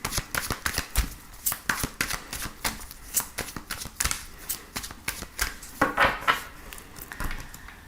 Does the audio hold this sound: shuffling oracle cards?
yes